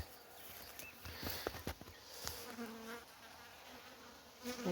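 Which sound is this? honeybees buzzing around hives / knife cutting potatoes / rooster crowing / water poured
honeybees buzzing around hives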